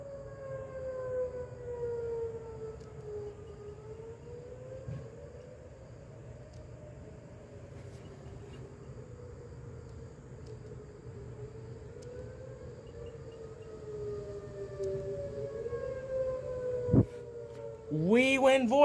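Civil defense sirens sound a tornado warning, a long, slow wail that rises and falls steadily from a distance. A sharp, loud burst of noise breaks in near the end.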